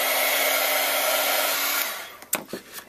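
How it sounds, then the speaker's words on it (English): A heat tool blows a loud, steady, whirring stream of hot air over embossing powder on a card, then cuts off, followed by a few light clattering handling sounds. "We're going to go ahead with our heat tool and dry that."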